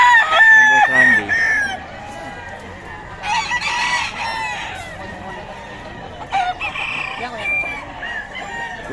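Several roosters crow loudly and chickens cluck at a Bocaue fowl farm, with overlapping calls nearby and faint background voices.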